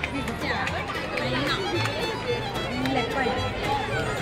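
Dense babble of many visitors chattering at the zoo near the leopard and hyena enclosures, a steady, loud crowd hubbub with overlapping voices throughout.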